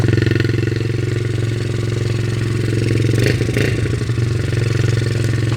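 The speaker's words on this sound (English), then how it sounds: "The electric start works beautifully, fires right up, purrs like a kitten." A Yamaha TTR50 minibike engine idles steadily up close, a constant low throbbing rumble with a brief clattery rise partway through.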